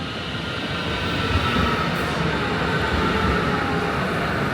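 A passenger train rolls along the rails in Germany with a steady, dense rumble and wheel noise from inside the carriage, constant and fairly loud with no talking.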